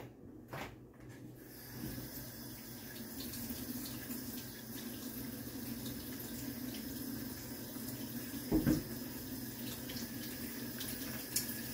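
Cold water running from a tap into a sink, a faint steady hiss of flow with a brief louder splash near the end, heard indoors and alone.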